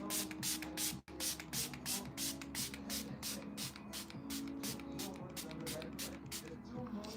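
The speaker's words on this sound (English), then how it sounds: "so now I'm gonna spray" Makeup spray mists onto a face in a long run of quick, evenly spaced hissing spritzes, close up, with a low background murmur beneath them.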